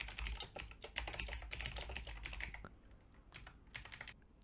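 Quick, close keystrokes on a computer keyboard while entering HTML tags, in a rapid uneven run that pauses briefly and then resumes with a few more clicks.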